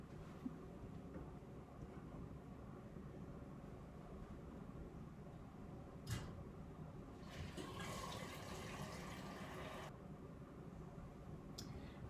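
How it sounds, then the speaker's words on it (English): Boiled spaghetti is drained, with a steady rushing of water running into a sink, a burst of louder splashing in the middle, and a few clanks of a pot. "Drain the pasta, but reserve about a quarter cup of the pasta water"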